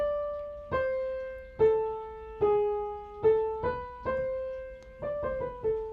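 The answer voice of the first fugue from Bach's Art of Fugue plays as a single melodic line of distinct, clear notes, mostly evenly paced with a quicker run near the end.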